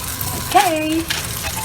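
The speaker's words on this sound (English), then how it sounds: "so kebab is now frying" Red kidney bean kebab frying in a pan for a Pakistani recipe, a short burst of sizzling with a brief squeaky sound in the middle.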